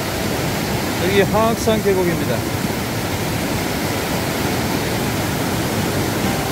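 A stream in Hwaaksan valley pours over huge boulders into a small waterfall, giving a constant close roar of cascading water while someone speaks briefly over it.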